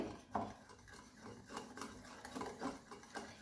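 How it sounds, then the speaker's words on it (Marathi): Kadhi batter being mixed with salt in a bowl, giving soft repeated scraping and stirring strokes at a steady rhythm, close and fairly quiet, with no voices. "मीठ घालायचं आहे आणि हे छान मिक्स करून घ्यायचं आहे"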